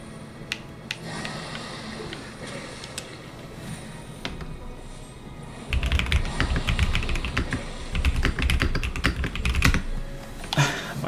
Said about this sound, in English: My keyboard keeps spacing because like I have to clock the keys really hard